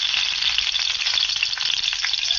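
Garlic and onion sizzle in a hot frying pan, a loud, steady crackling hiss with no talking.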